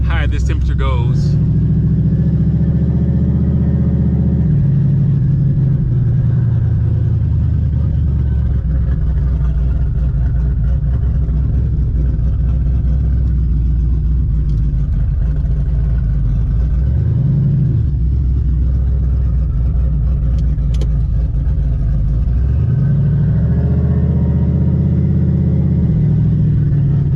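A Ford Mustang sits parked and idling, its engine giving a steady low rumble with a few slight swells in revs, while someone talks over it.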